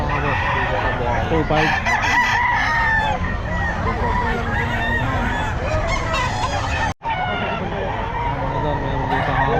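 Several backyard-bred fighting roosters crow repeatedly, loud and close, with clucks and honking fowl around them and people talking throughout.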